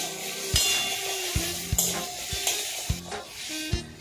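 Aloo posto frying in a pan, a steady sizzle broken by repeated scraping stirs of a spatula, close and clear, with no talk.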